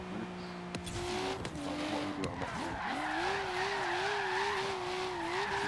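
A car drifts in Forza Horizon 3, tires squealing in a long wavering screech over a steady engine drone, with a few sharper chirps and shifts early on before settling into a sustained slide, fairly close and clear.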